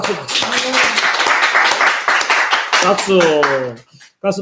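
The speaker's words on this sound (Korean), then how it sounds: "박수" A church congregation claps in applause, a brisk patter of many hands heard under a voice that carries on over it, the clapping thinning before a brief quiet near the end.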